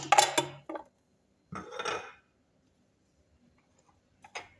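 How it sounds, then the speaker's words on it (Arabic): Dried meat and fresh meat placed into a cooking pot, giving a few clattering metallic clinks and scrapes of pot and utensil in separate short bursts, with quiet gaps between. "نجيبو القدرة تاعنا نحطو فيها القديد واللحم تاعنا"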